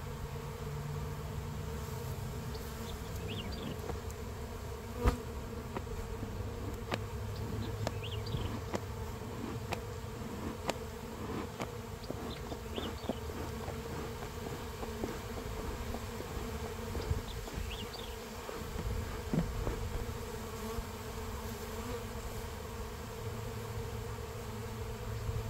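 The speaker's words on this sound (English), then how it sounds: "Man, that was a lot of bees." Honey bees swarm and buzz steadily around a hive after a brood frame from a strong colony is added to a weak one. The dense, continuous drone stays close for the whole stretch, with occasional faint knocks and no talking.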